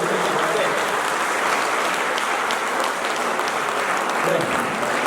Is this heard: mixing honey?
no